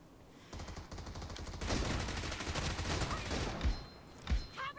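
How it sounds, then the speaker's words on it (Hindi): Rapid bursts of sniper rifle fire in the battle-royale game BGMI ring out continuously over several seconds, loud and dense, with a few sharper cracks near the end. "भाई ये स्नाइपर चला रहा है"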